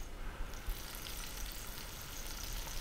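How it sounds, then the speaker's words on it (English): Whitefish sizzles and crackles steadily in a hot frying pan, a soft continuous frying hiss with no voices. "Make sure that they're not sort of sticking to the bottom of the frying pan."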